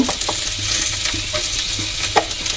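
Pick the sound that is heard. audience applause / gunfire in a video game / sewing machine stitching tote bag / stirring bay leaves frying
stirring bay leaves frying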